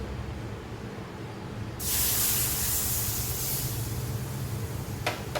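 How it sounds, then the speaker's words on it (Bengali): Milk is poured into a hot pan while making creamy white sauce pasta, setting off a sudden loud sizzling hiss that holds for about two seconds and then eases to a softer bubbling, with a short sharp hiss near the end. "এরপর ঢেলে দেবো দুধ।"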